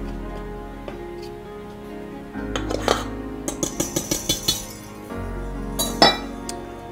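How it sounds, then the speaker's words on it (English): A metal whisk stirs flour in a mixing bowl, giving a run of quick, rhythmic clinks and scrapes against the bowl close by, with no talk. "you take your whisk and you kind of just stir around in the flour to make sure it is well sifted and blended good"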